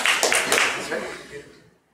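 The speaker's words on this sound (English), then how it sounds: "Everybody deserves a big round of applause" An audience at a talk gives brief, close applause of a few people, quick overlapping claps that fade out within two seconds, with talking heard alongside.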